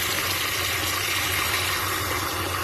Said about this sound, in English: let's put some more fresh water in there for the cats